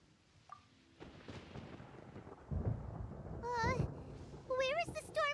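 A thunderstorm in a Genshin Impact-style fantasy game, with low rumbling thunder swelling in loudness beneath game sound effects and chiming tones, rising near the middle and holding strong to the end.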